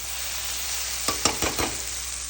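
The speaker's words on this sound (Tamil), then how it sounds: "சைமல்டேனியஸாக நம்ம பாவக்காய்க்குரிய வெங்காயம் நல்லா வதங்கிடுச்சு" Onions sautéing in a pan for a bitter gourd fry, a steady close sizzle with a few quick scraping stirs in the middle.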